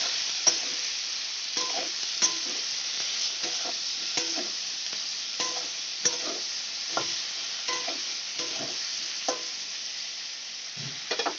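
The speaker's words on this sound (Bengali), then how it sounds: "এবার আমি বেগুনটাকে ভেজে নেব।" Eggplant pieces frying in hot oil, a steady bright sizzle with periodic clinks and scrapes of a spatula stirring the pan.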